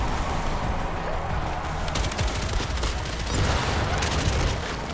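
Rapid turret fire in a game, a steady, thick stream of shots continuing for the whole stretch with no clear pauses, loud and close in a cluttered battle mix.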